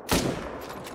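A rifle shot rings out in a yak-hunting video game set in the mountains, a single sharp loud crack followed by a fading tail of echo, with no talking over it.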